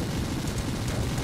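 A grenade blast in the Warhammer 40k Inquisitor Martyr video game: a sustained, dense rumbling boom that stays loud for its full short length, with no talk over it.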